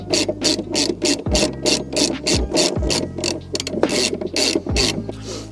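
Battery hold-down bracket bolt being dropped in and fastened during a car battery change: a steady, close run of rapid ratchet-wrench clicks with a few sharper metallic knocks, no talking.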